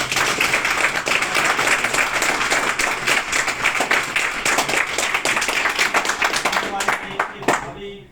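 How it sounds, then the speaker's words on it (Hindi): Loud, sustained applause from a crowd, dense clapping filling the whole stretch before tapering off at the end. "एक बार जोर से तालियां बजाएं"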